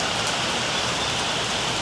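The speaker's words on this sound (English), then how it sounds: "as soon as I came back down, the rain just started hitting" Steady rain falls and patters on surfaces outdoors on Pangkor Island, Malaysia, a dense continuous hiss close by with no voices.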